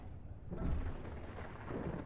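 Low rumbling thunder from a storm in the video game Space Engineers, a deep continuous roll that swells and fades over about two seconds, fairly quiet and alone.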